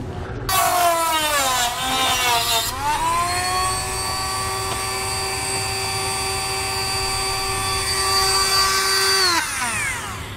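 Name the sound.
Dremel rotary tool cutting thin plastic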